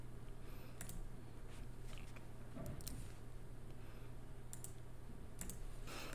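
A computer mouse gives several quick, faint clicks in small clusters, scattered over a low steady background hum in a quiet room.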